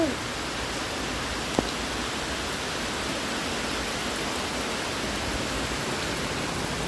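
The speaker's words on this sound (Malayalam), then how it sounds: "അപ്പോൾ ഇപ്പം മഴ പെയ്യുന്നുണ്ട്" Steady, even hiss of rain falling, constant throughout with no breaks, one faint tap early on.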